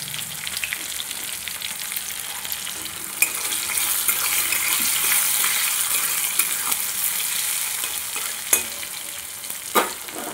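Tomatoes with a little salt frying in a pan give a steady, loud sizzle, with a few sharp clinks of a stirring utensil against the pan.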